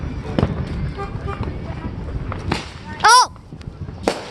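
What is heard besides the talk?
fireworks exploding on 4th of July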